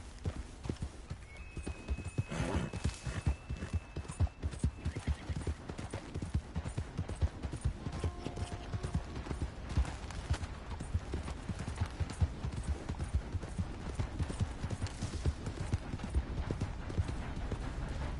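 Horse hooves clip-clop steadily in an even walking rhythm as the animal is ridden, close and continuous, with a rider's occasional soft calls and a brief whinny-like tone.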